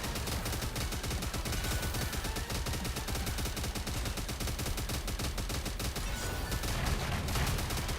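Continuous rapid gunfire in a video game, dense rattling shots running loud and unbroken for the whole stretch with no talking over it.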